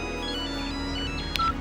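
Phone ringtone playing steadily in an indoor scene, a short electronic melody repeating for under two seconds with a brief brighter chirp near the end, no talk over it.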